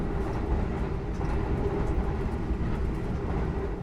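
Passenger train running fast at about 110 km/h, heard from inside the carriage: a loud, steady rumble and rush of wheels on rail that continues unbroken without talk.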